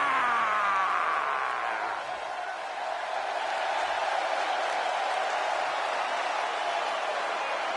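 Arena crowd in the WWE 2K18 wrestling video game applauding and cheering, a steady broadband roar of clapping that holds at even loudness throughout with no talking.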